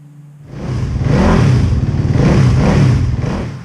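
A Suzuki RMX450Z four-stroke dirt bike engine starts and runs close by, a steady rough revving with a pulsing rattle that rises and holds.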